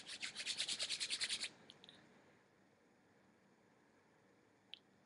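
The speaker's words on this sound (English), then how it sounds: "Rub your palms together." Palms rub briskly together during a yoga session, making a quick series of about a dozen close, rhythmic swishing strokes that stop abruptly, followed by near silence with a faint tap.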